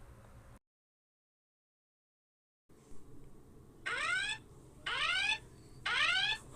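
A school fire alarm sounds in three loud, evenly spaced bursts of rising electronic whooping tones over a low background hum.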